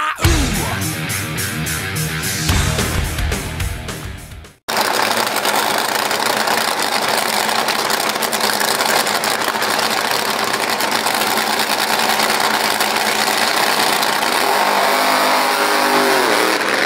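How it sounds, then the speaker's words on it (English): A loud car engine runs steadily at a car show, with a brief break early on, then a continuous rumbling idle that swells slightly as if revved near the end. "That car making the right noise."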